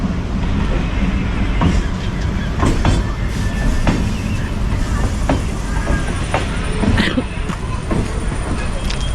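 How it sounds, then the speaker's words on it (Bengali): A train rumbles past nearby with rhythmic clattering of wheels over rails, steady and loud throughout, with faint voices mixed in. "ট্রেন আসছে চলো"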